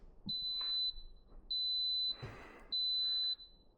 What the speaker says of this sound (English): Always with the incessant beeping.